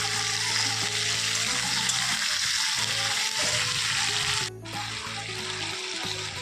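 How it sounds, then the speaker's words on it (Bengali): Pumpkin and potato pieces fry in a pan being browned, giving a continuous close sizzle with a low steady hum underneath and a brief dip near the end, no talk. "কুমড়ো আলুটা একটু লাল লাল করে ভেজে নেব।"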